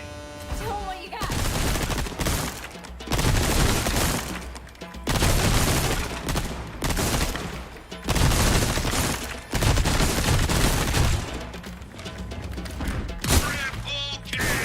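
Dense, nearly continuous gunfire hits shooting-gallery targets in Resident Evil 4 Remake, with rapid volleys in loud bursts separated by brief gaps, and a faint voice in the background.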